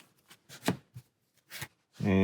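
Playing cards shuffled during a solo Marvel Champions card game session, a brief riffling burst at the end following a few soft card handling sounds and quiet talk.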